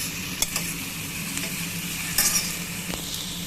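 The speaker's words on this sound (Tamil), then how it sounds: "இந்த பொட்டேட்டோவையுமே அதோடு சேர்த்து நல்லா ஆயிலில் ஃப்ரை பண்ணிக்கணும்." Potatoes, onion and cashew nuts frying in oil in a pan hiss with a steady, close sizzle, broken now and then by light stirring scrapes and clicks. No voices are heard.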